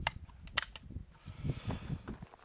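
An AK rifle fitted with Magpul furniture and an ALG Defense AKT trigger fires Brown Bear 7.62x39 ammunition outdoors. Two sharp reports crack early, followed by faint rustling and low thumps, heard at a distance.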